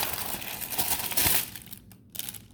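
A plastic bag from a product box is handled up close, giving a short run of crinkly rustling that fades into quieter taps and a small rustle at the end.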